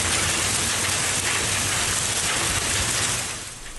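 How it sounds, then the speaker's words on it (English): Hail from a storm pelting a road in El Dorado Hills, Northern California: a steady, dense, hissing clatter of ice pellets, loud and continuous throughout, easing slightly at the end, with no voices. "Hail was falling in El Dorado Hills this afternoon. Ice pebbles were just hitting the road there."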